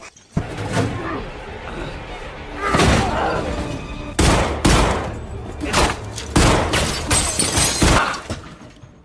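Loud bursts of gunfire crack in several clusters, with shattering impacts and thuds between volleys, from a shootout in the 2018 film Death Wish.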